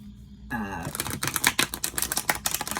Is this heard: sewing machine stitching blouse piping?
no